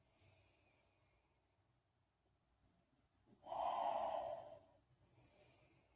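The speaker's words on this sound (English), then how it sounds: "5 more deep breaths here." Slow, deep breath during a yoga pose, one long audible exhale swelling up near the middle, with quieter breathing before and after.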